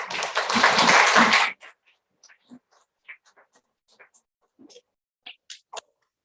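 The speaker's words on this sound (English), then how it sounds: "Big applause." A short, lively round of applause for a prize winner at an International Women's Day event ends after about a second and a half, leaving scattered faint taps and small noises in a quiet room.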